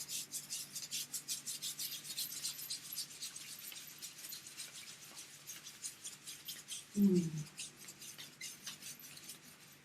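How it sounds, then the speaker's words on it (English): Hands rubbing the soles of the feet during a Kundalini yoga session, heard as a close, steady rhythmic rasping of skin on skin with one brief soft thump near the end. "you can just rub the soles of the feet, the palms of the hands"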